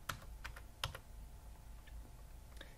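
Quiet typing on a computer keyboard while entering an Excel formula, a few light, scattered key clicks with short pauses between them in a faint, still room.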